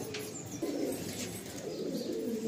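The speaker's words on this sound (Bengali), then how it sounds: "এই হচ্ছে আমার কেজিএন পায়রা" Pigeons coo steadily in a loft, KGN breed, low soft repeated warbling calls close by with a faint chirp overhead and no talking.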